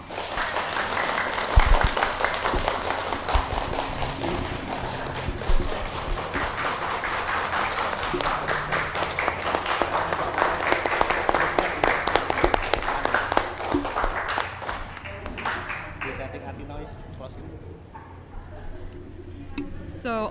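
Audience applause at the close of a 2022 JCI Indonesia National Convention press conference, a sustained dense clapping over about fourteen seconds that thins out toward the end, with voices mixed in underneath.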